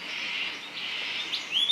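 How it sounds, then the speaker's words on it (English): Cockatoos in the Australian bush let out a harsh, raspy screeching chorus that rises to a shrill squawk at the end, loud and continuous over the short stretch. "They're the cockatoos."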